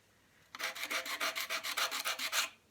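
Paint is rubbed off a painted IKEA plant stand by hand to distress it, a rapid run of about a dozen dry, scratchy strokes in steady rhythm, close and fairly quiet with no voice.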